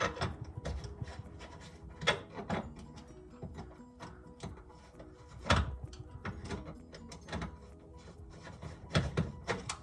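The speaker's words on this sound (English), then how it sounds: "all you need is a little flathead to pull these pins out" A small flathead screwdriver works pins out of car hood hinges in a garage, producing close metallic clicks, scrapes and knocks in irregular bursts.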